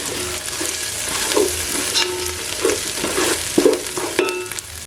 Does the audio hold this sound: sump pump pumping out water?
no